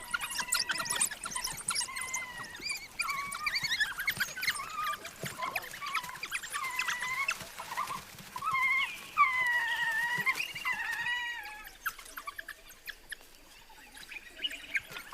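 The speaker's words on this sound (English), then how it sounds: "Yelping puppies eagerly greet the adults and lick their muzzles to encourage regurgitation." Puppies in a pack yelp and whine as they greet adults: a busy overlapping chorus of high, wavering squeals and whimpers that swells in the middle, then thins out toward a quieter end.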